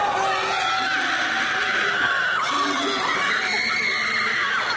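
A female arm wrestler lets out a fierce, sustained screaming battle cry at the European Arm Wrestling Championships in Lithuania, loud and continuous over crowd noise.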